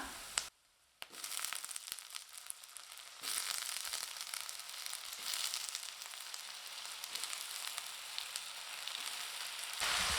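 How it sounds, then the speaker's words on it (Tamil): Eggplant being sautéed with onion and garlic in a pan gives a steady, close hiss and sizzle for several seconds. A few scraping stirs stand out after a brief quiet start. "இது கூட நறுக்கி வச்சிருக்கிற கத்திரிக்காய் சேர்த்து நல்லா வதக்கி விட்டுக்கலாம்"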